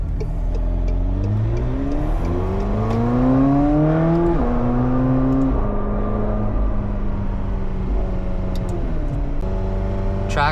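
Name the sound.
McLaren 720S engine driving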